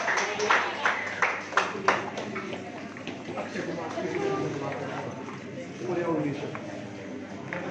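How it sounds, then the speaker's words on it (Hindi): Teachers at a college of education event get a round of applause, with bursts of clapping at the start, then the crowd settling into a murmur while people talk. "जोरदार तालियां।"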